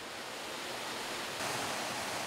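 A waterfall gives a steady, dense wash of rushing water, broad and continuous, moderately faint with no talk, swelling slightly louder partway through.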